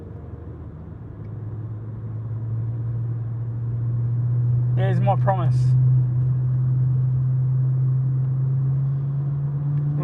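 Steady low engine and road rumble fills the inside of a car driving through light morning traffic, staying even throughout, with a person speaking briefly about halfway through.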